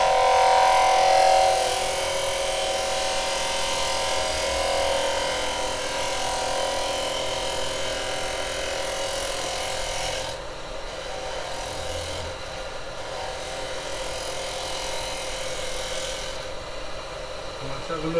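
A 9mm carbide tool cuts wood spinning on a lathe while a tea-light holder is being turned, producing a steady close rasping scrape with a constant whir beneath it and brief dips where the cut lightens.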